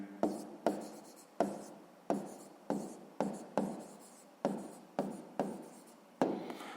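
A pen scratches across paper during a sixth-grade maths exercise, with about a dozen short strokes and taps in an uneven rhythm, close and fairly quiet, with no talk.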